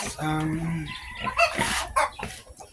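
Backyard chickens cluck at a farm during water and feeding time, a few close, choppy calls breaking through a busy mix of other noise and harmonic tones.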